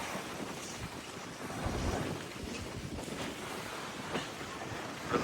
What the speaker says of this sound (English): The water though, she's quite choppy today